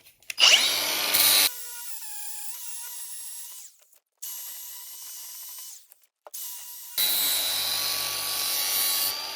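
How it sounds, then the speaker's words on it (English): A flap disc on an angle grinder works burrs off the splined end of an output shaft for a 6L80 transmission to TX15B transfer case conversion, in loud sustained bursts of high whirring grind with brief pauses between passes. "I then take a flap disc"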